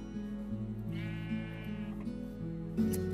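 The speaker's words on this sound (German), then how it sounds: "Oh, noch mehr rote Schafe." Minecraft sheep bleat repeatedly in a game, drawn-out wavering cries overlapping one another, with a final louder bleat at the end.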